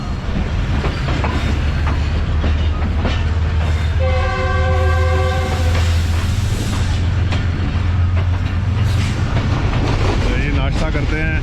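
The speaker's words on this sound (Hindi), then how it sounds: "ये तकरीबन 10 मिनट सक्खर स्टेशन पे रुकने के बाद रवाना हो चुकी है ट्रेन" Jaffar Express passenger train running after pulling out of Sukkur station, with a loud steady rumble and clatter of the carriages and a horn sounding briefly midway, heard from on board.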